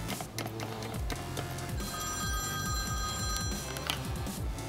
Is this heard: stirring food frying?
no